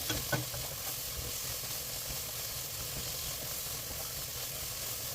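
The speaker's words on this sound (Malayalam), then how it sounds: "ഇഞ്ചിയും വെളുത്തുള്ളിയും ചതച്ച് വെച്ചിരിക്കുന്നത് അതിലോട്ട് ചേർത്ത് പിന്നെയും നന്നായിട്ട് വഴറ്റി" Onion, crushed ginger and garlic sautéing in a pan, giving a steady soft sizzle and hiss throughout, quiet and close, with a brief stirring clatter near the start.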